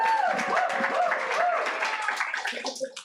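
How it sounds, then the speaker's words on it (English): An audience at a poetry festival applauds the DSTL Arts poets, a moderate wash of clapping under a speaker's voice that thins out near the end. "round of applause for the DSTL Arts"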